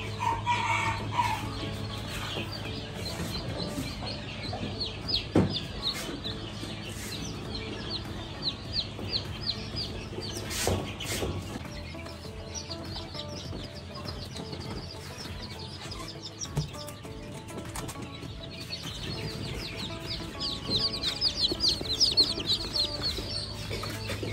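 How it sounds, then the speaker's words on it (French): Young chicks being set into a brooder to start rearing, with constant high peeping and clucking from the flock, steady and fairly close, and a few louder bursts of bird calls. "Maintenant nous allons installer nos poussins."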